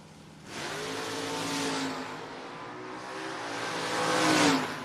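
A 1970 Camaro launches hard in a No-Box drag race, its engine snapping from idle into a loud, climbing roar with gear-change dips before surging again, heard from trackside.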